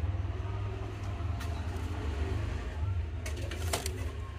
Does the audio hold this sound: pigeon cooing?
yes